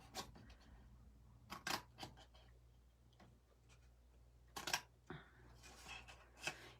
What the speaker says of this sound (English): So we're going to cut those little squares.